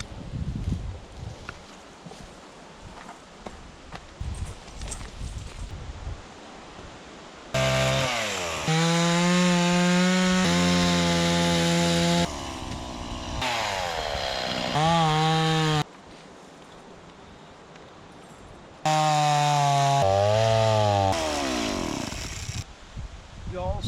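A chainsaw fitted with a new sharpened chain cuts into a blown-down tree, its engine rising to loud, sustained high-revving bursts between quieter idling stretches.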